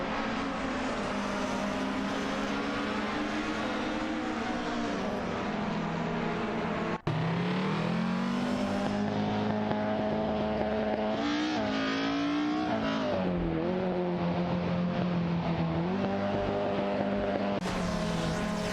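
Racing cars tear around the track in a racing video game, engines droning loudly and continuously with rising and falling revs as cars pass and shift, one sharp click midway, no talk over it.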